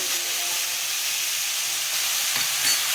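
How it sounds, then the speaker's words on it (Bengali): Lentils poured into a hot pan for a vegetarian pumpkin-stem and pea dal, making a steady close hiss and sizzle throughout with faint stirring underneath and no talk. "ডালটা ঢেলে দিচ্ছি"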